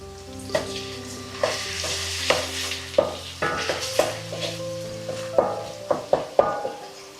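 Round-sliced green chillies fry in hot oil for prawn pickle, a soft sizzle broken by repeated sharp clinks and scrapes of a spoon stirring the pan, close up with no voices.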